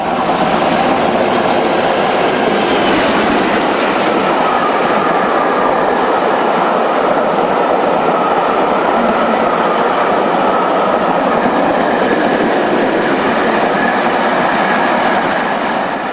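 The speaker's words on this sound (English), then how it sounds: "47832 is a former Great Western machine now operated by Fragonset" Class 47 diesel locomotive 47832, a former Great Western engine operated by Fragonset, hauls a railtour train past at close range, a loud continuous roar of engine and rolling stock with steady wheel clatter and no pause throughout.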